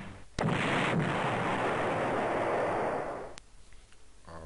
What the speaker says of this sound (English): So let's attack this tactical bomber.